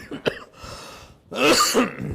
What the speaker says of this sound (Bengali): আপনার তো প্রচুর কাশি হচ্ছে